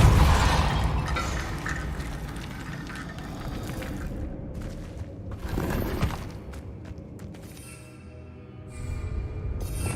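Spell blast from Hogwarts Legacy cast in an eerie tomb, a loud booming burst with crashing debris that fades and then swells again in a second rumbling impact, with no talking.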